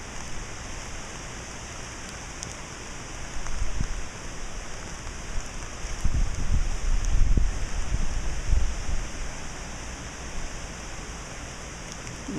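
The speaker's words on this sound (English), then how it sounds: "Rain's picking up a little." Steady hissing rain during Hurricane Dorian near Lake Moultrie, South Carolina, with gusty wind, swelling louder through the middle before easing back to a constant wash.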